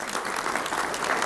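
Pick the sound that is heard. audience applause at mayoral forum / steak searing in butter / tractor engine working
audience applause at mayoral forum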